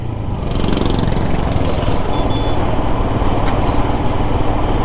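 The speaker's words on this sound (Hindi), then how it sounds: "एग्जॉस्ट नोट भी डिसेंट है।" A Royal Enfield Himalayan motorcycle's exhaust rumbles steadily close by, a loud, even engine thrum with no talk over it.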